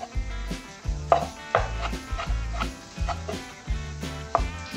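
A knife chops a tomato into strips on a cutting board, about a dozen sharp, close, evenly spaced thuds in a steady rhythm, with no talking.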